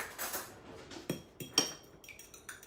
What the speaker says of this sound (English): let me whisk that up with a fork